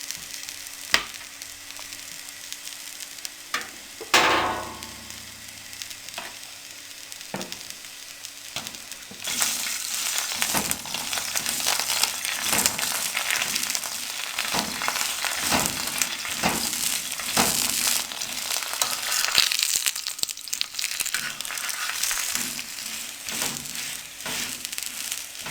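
A potato-stuffed layered paratha sizzles steadily in ghee on a griddle over a medium flame. The close, dense crackle swells after a quieter start, with occasional soft scrapes and taps and no talk.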